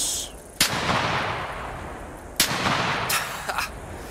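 Automatic shotgun blasts in the Hunter Classic video game: two loud, sharp reports each followed by a long rolling echo, with a fainter third shot near the end.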